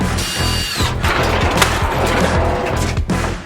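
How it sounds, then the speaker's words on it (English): A power drill runs in loud, close bursts while backing screws out of a car side skirt on an R32 GTR drift build, whirring with sharp knocks and clatter of the part. "I'm just gonna zappy zap the screws out of it"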